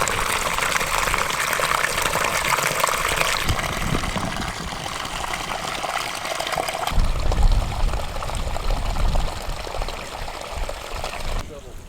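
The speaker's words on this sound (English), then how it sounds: "We're gonna drain the water, fill it back up" Water gushing and pouring steadily as a tank on a bison ranch is drained and refilled, a continuous rushing flow with low splashing and some shifts in intensity, loud and close.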